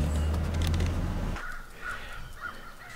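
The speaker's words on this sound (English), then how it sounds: "Living next to a bunch of crows." Crows cawing in the morning near a home, several harsh caws spaced across the last half of the clip, moderately distant, following a loud low rumble in the first part, with no talk.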